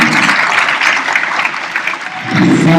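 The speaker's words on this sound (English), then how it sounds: "Another round of applause to our planning international" Audience applause fills the hall at the opening ceremony of the Tanzania International Model UN 2020, a steady, dense clapping that holds throughout and swells again near the end.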